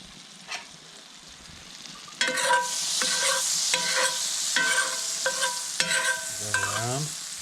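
Butter in a frying pan starts crackling and sizzling after a quiet moment, and a utensil stirs through it with repeated scrapes and taps against the metal. The pan belongs to a campsite cook of brook trout and frog legs.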